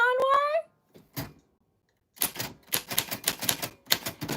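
Typewriter keys clatter in quick bursts of strikes after a short ringing tone at the start, fairly close and dry, with a brief pause before the typing resumes.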